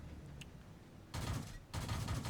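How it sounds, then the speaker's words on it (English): Tank cannon and gunfire in World of Tanks as shots are put into the back of an enemy DW tank, two loud sustained bursts of fire separated by a short gap, close and dominant. "I'm going to put some shots into the back of this DW"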